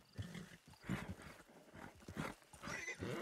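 A horse in the Red Dead Online video game snorts and whinnies in a string of breathy, rough bursts, close and fairly loud, with no talking.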